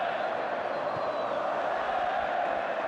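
Barcelona supporters in a stadium crowd at the Grand Stade de Tangier chant olé during a Spanish Super Cup match against Sevilla, a steady broad roar of massed voices holding for several seconds, distant and continuous.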